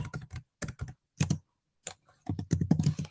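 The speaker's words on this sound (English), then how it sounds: "Sorry, hard typing." Hard typing on a computer keyboard during a doctor's consultation demo, with dense bursts of loud, close key clacks separated by brief pauses and no voices over them.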